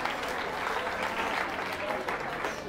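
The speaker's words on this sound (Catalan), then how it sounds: "Aplaudim també en aquestes escoles i en aquests instituts." A studio audience on a Catalan TV spelling quiz applauds participating schools and institutes, a steady, moderately quiet patter of many hands clapping that continues evenly without pause.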